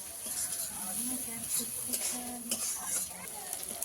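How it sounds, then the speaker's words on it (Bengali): Finely chopped onions frying in oil until reddish give a soft, steady sizzle with light stirring, fairly faint, while a voice speaks quietly nearby. "পেঁয়াজটা একটু লাল লাল করে ভেজে নিয়েছি"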